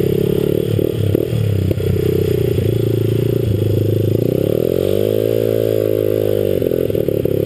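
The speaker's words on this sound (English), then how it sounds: "She's bogging under load, and I don't get it." A 1983 motorcycle engine with a 3-into-1 exhaust runs loud and close under load, its steady drone dipping and straining as it bogs, with no speech.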